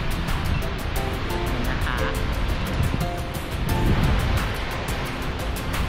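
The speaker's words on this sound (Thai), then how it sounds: "อันนี้ก็คือน้ำตก" Palouse Falls in Washington roars as a steady, broad rush of falling water heard up close, loud and continuous with a faint voice briefly beneath it.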